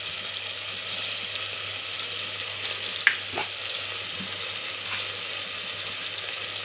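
Onions, tomatoes and masala powders fry in a pan with a steady, even sizzle throughout, close by, broken by a couple of brief utensil clicks near the middle.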